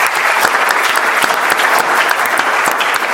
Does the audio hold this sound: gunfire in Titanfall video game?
no